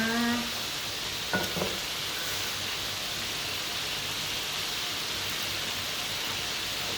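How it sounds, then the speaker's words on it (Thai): Pork stir-frying in a pan, a steady hissing sizzle close by with a couple of brief clinks near the start, no talk. "ผัดให้หมูสุกนะคะ"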